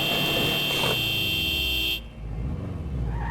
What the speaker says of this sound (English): I was going to honk to draw them all towards